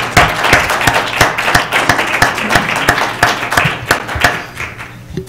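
A school board meeting audience claps for a community school's advanced choir, loud, close, crisp hand claps in a busy, uneven rhythm that continues for several seconds with little talk.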